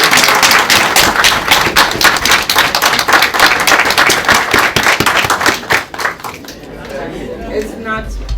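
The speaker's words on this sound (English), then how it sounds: "Round of applause, please." Lively crowd clapping at a heritage awards ceremony, with sharp individual claps close by that thin out toward the end as a voice begins speaking over the fading applause.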